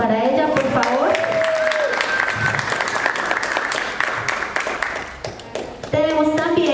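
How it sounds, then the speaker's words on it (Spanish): An audience applauds an MC at a youth rap and breaking conversation event, sustained crowd clapping with a few cheers that swells and then tapers off, with a voice speaking over it at the start and end. "Un aplauso para ella, por favor."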